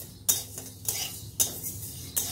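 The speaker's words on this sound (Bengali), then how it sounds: "আমি এখন মুগের ডালটাকে ভেজে নিচ্ছি" Moong dal being dry-roasted in a pan, four rhythmic scraping strokes of a utensil against the metal with a dry rattle of grains between them, close and clear.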